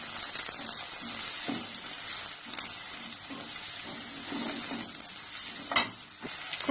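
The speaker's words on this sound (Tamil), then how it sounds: "அதையும் கூட சேர்த்து நல்லா வதக்கி விட்டுறலாம்." Three large, finely chopped onions sauté with curry leaves in a pan of hot oil for chow chow thokku. A steady, close sizzle runs throughout, broken by occasional scraping stirs.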